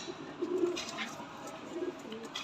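A female pigeon with red eyes, red eyelids, a red beak and a leg ring coos softly, giving two low, rounded coos a little over a second apart against a faint background hiss.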